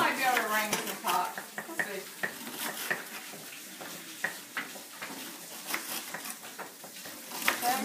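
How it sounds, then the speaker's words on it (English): Food being chopped in a busy home kitchen while steak sandwiches are made, heard as rapid knife taps on a board amid clinking pans and sizzling, fairly close and continuous. "Everybody's just chopping away."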